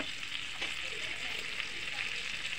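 Precooked potatoes sauté in melted butter in a pan, giving a steady, close sizzle and crackle that runs evenly throughout with no talking.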